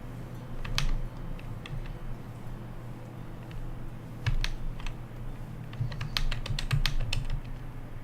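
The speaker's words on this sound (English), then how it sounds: "I just hear the clacking of your hotkeys" Computer keyboard hotkeys clack in quick irregular bursts during a digital painting session, crisp close clicks over a low steady hum, with busier clusters toward the end and no voices.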